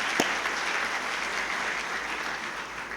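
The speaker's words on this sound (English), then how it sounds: "let's thank them with a round of applause anyway" Audience applause at a swearing-in ceremony, a steady wash of clapping from a crowd that holds at an even level throughout.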